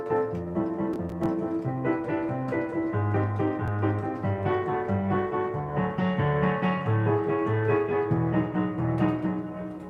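Chord progression of a song played as a steady stream of sustained, harmonically rich tones with moving bass notes, continuous and fairly full for the whole stretch with no talking.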